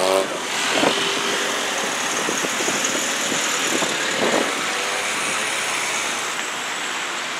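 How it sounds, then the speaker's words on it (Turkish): Steady traffic at a busy ring road intersection after an accident, engines idling and cars passing in a constant broadband roar with occasional knocks, moderately loud and without speech. "Trafik kalabalaştı."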